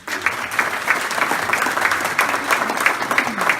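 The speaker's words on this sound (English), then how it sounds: "Let's give them a round of applause." Audience at an outdoor hotel groundbreaking ceremony applauding city council members, a brief burst of steady, moderately loud clapping from a modest crowd.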